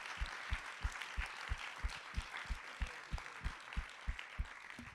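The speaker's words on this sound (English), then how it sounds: "can we just give all of our storytellers tonight a round of applause" An audience gives a round of applause for the storytellers at an evening storytelling event at Memorial Sloan Kettering Cancer Center, a broad steady wash of clapping underscored by a regular series of low thumps that run through the whole stretch.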